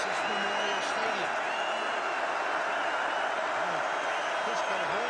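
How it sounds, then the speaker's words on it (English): A football crowd at Texas Memorial Stadium roars in a steady, constant wash of noise during Texas vs Iowa State in 2010, with an announcer talking over it. "the crowd starts rolling here at Hurricane Texas Memorial Stadium"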